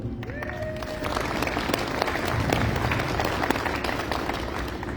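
Steady, dense applause from an audience at a community meeting on forest restoration, with a brief tonal whine near the start and no clear speech.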